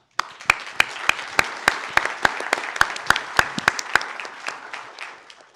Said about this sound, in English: let's give Nina another big round of applause